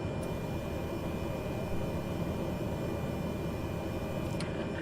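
A propeller aircraft taxiing to general aviation parking in a flight simulator game produces a steady, droning engine rumble that holds constant and fairly loud, with no talk.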